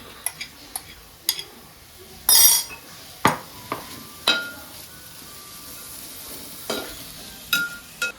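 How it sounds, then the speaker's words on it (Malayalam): Sudden hiss and crackle as dried prawns hit hot oil in a pan, then a low sizzle punctuated by scattered clanks of a utensil against the pan. "മൂപ്പിക്കുന്നതിനകത്തോട്ടേ ഉണക്കക്കൊഞ്ച് ഇട്ട് കൊടുക്കാം."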